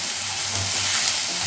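Onions with salt sauté in a pan, giving a short, steady, even hiss of frying at close range with no other sounds.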